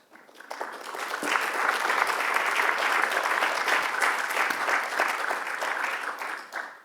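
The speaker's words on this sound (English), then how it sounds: "so we can applaud our guests" An audience applauds the guests at the close of an industry round table on quantum technology, the clapping swelling quickly, holding steady and dense for several seconds, then fading out at the end.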